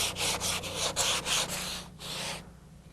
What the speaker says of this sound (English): We're going to be going still with 80 grit sandpaper, but using a sanding block.